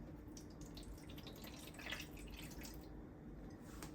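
Macronutrient solution, slightly yellow, is poured into the base of a Sainlogic hydroponics growing system, making faint, quiet trickling and dripping water sounds with no talking.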